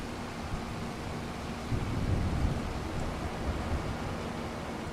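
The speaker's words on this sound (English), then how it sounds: "I quite like that when it's sunny and raining." Steady rain in the Farming Simulator 25 farm game, a constant broadband hiss with a low rumble, swelling slightly midway and otherwise even, with no talking.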